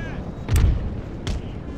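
Two booming cannon shots in Napoleon: Total War, each a heavy low thud about three-quarters of a second apart, set against a soft battlefield rumble.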